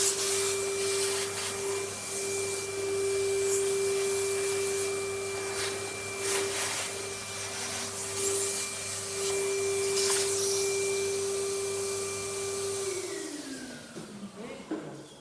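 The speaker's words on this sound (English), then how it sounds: "with the hoover going for a minute, I'll just hoover up the inside there" A vacuum cleaner runs steadily at close range inside a dimension saw cabinet, a constant motor whine with sucking and rubbing scrapes as debris is drawn up, then winding down at the end.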